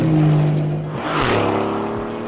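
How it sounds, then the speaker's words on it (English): Exhaust note of a 2018 Aston Martin Vantage, a loud steady engine drone that swells with a brief revving rise midway before settling back, heard alone and up close. "Aston says it's engineered the engine's sound so that the Vantage has a noticeably different exhaust note to a Mercedes AMG car"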